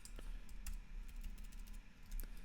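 Rapid clicking of computer-keyboard keys as someone codes a SwiftUI horizontal scroll view with custom animations, the keystrokes coming in steady irregular bursts, close and fairly quiet over a low hum.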